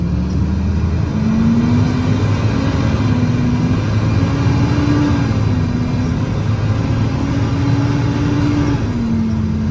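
A 2019 International MV607 service truck with a 325 hp Cummins diesel and Allison automatic drives along, its engine droning steadily from inside the cab with gentle rising and falling pitch as it works through gears.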